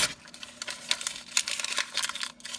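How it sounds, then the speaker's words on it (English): A piece of scrap paper or tissue is crumpled up close by, giving dense crinkling crackles in irregular bursts for a few seconds with no talking. "crumple up a piece of it"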